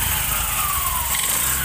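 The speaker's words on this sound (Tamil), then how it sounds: "இன்ஜின் நாய்ஸ்லாம் ரொம்ப ஸ்மூத்தாக இருக்குது, ரொம்ப நைஸாக இருக்குது" A TVS Scooty Pep+ scooter engine runs after a full service, giving a loud, close, steady and smooth hum with no talk over it.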